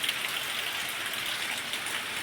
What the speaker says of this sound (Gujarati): આ રીતે વરસાદ ધડબડાટી ચાલુ છે